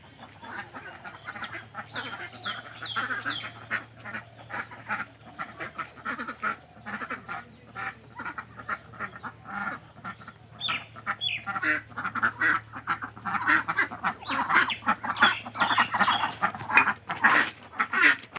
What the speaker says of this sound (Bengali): আর বিকেল হয়ে গেছে হাঁসগুলো সব এই যে